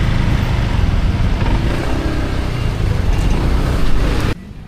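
Dense road traffic with cars and motorcycles on a busy street, a steady loud rumble of engines with occasional revving that cuts off abruptly near the end.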